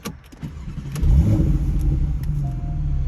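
A Porsche 911 GTS engine starts up: a brief starter crank, then the engine catches with a loud rising bark and settles into a deep, steady idle close by, with no talk.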